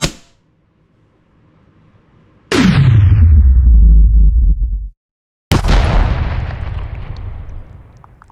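Two loud sharp impacts from a BB gun fired into a ballistic dummy, each a sudden crack with a long ringing decay, spaced a few seconds apart after near silence.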